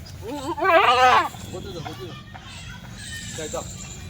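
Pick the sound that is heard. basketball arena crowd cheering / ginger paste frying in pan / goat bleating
goat bleating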